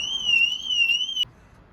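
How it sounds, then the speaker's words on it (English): A single steady electronic alarm tone from an electric car charging station sounds loudly for just over a second, then cuts off abruptly, leaving quiet background. "Oh, and that's our alarm."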